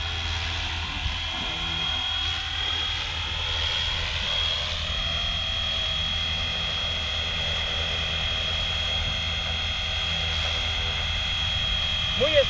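A FlyWing FW450L V3 radio-controlled helicopter flies continuously with a steady high-pitched rotor and motor whine, slight pitch wavering, and a constant engine drone throughout.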